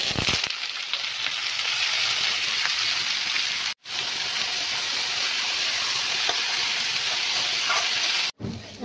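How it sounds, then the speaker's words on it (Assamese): Bitter gourd and potato pieces fry in hot oil in a wok, a loud, steady sizzle and crackle heard up close. Two brief silent breaks interrupt it, with no voices. "তিতা কেৰেলা আৰু আলুখিনি ভাজি ল'ম।"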